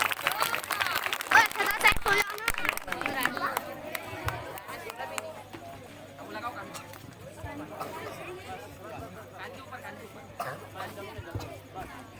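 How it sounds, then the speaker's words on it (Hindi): Applause greets the first poet at an Urdu cultural programme in Sonala. A burst of crowd clapping fills the first few seconds, then fades into murmuring voices and talk. "जोरदार तालियां"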